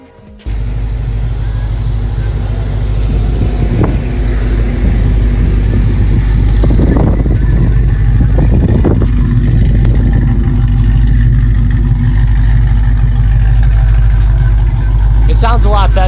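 A Dodge Hellcat engine rumbles loudly and steadily close by for the whole stretch, with a few revving surges in the middle and people talking over it.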